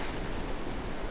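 Gusting wind and rough surf pound a fishing spot in wild, wet conditions, a dense, steady roar of wind and crashing water with no voices.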